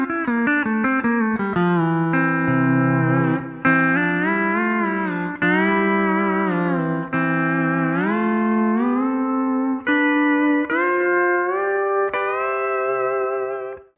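Rock guitar mimicking a country pedal steel, sustained notes sliding and swelling up and down in pitch with smooth bends, loud and continuous with some effects coloring, no voices.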